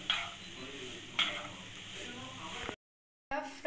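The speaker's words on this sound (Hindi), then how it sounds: "फ्राई करना है और उसके बाद हम लोग इसमें ग्रेटेड कैरेट्स को ऐड कर देंगे।" Grated carrots fry and are stirred in a pan, a faint steady sizzle with sharp scrapes of the utensil at intervals, briefly cutting to silence before the sizzle returns.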